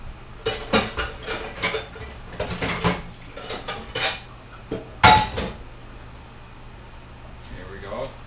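A bowl is fetched and handled in a home kitchen: close, loud clatter of ceramic and metal knocks and scrapes in quick irregular bursts, with a low hum underneath and no talk.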